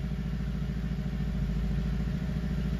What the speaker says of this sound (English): I can hear audibly the engine revs changing.